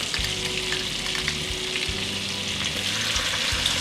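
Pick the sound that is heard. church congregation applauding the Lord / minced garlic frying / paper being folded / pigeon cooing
minced garlic frying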